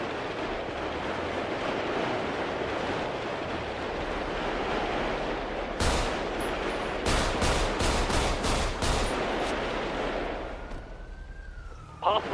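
Bursts of automatic gunfire crackle in a multiplayer video game shootout over a warehouse, a rapid cluster of loud shots in the middle after a stretch of steady ambient rumble, with a final shot near the end.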